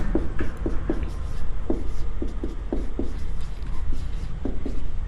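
Chalk strokes on a board during a physics lesson on electric lines of force, a series of short scratchy taps and scrapes in uneven bursts, close and fairly loud over steady room hum.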